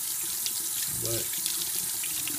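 Tap water runs steadily into a sink while a dirty sponge filter from a saltwater aquarium is rinsed, a constant close hiss with a brief voice over it.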